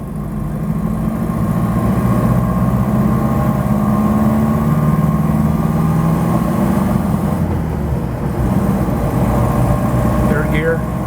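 1961 Metropolitan car driving on a highway, heard from inside as a loud, steady engine drone with road rumble throughout.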